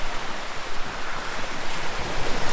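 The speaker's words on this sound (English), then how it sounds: "The sea is kind of loud." Sea waves wash over rock slabs under the water on a Greek shore, a close, continuous hiss and churning wash with soft surges, mixed with some wind noise and no voices.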